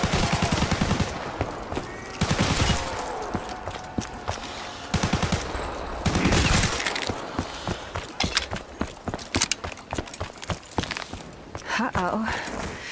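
Video game gunfire, with bursts of rapid automatic shots and single cracks coming in rhythmic clusters, close and loud, separated by short gaps, amid scattered in-game clatter and brief voice sounds.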